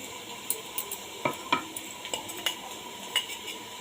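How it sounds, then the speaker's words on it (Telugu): Bitter gourd fries in a pan while a utensil stirs and scrapes it, giving soft sizzling under irregular metallic clinks and taps at close range. "కాకరకాయ బాగా ఫ్రై అయిపోయిందండి."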